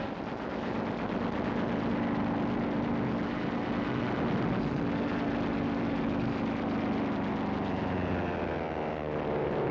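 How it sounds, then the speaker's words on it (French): Luftwaffe warplanes over Poland in archival wartime footage: a loud, continuous, rough roar of aircraft engines mixed with rattling gunfire, dense and unbroken throughout. "les avions de la Luftwaffe survolaient la Pologne, attaquaient les aérodromes avec pour objectif de détruire l'aviation polonaise au sol."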